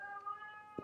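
An old female cat gives a short, quiet meow, a single drawn-out call heard close by in a calm indoor room.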